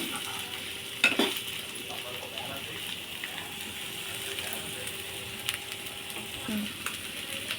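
Raw banana pieces stir-fry in a pan with a steady, moderate sizzle, broken by a few sharp scrapes and clatters of the spatula against the metal.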